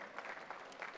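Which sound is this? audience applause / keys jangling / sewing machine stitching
audience applause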